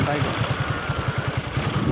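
A motorcycle engine running with a rapid, pulsing low rumble, close and steady throughout.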